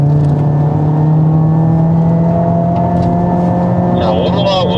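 A Hyundai Avante N race car's engine drones close by at speed on Inje circuit, holding a constant pitch, with a voice talking faintly over it near the end.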